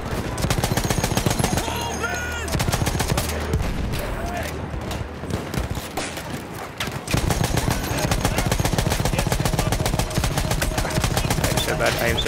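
Dense, continuous gunfire in the Battlefield 1 video game opening, loud sustained machine-gun bursts and explosions filling the whole stretch with only a brief lull in the middle.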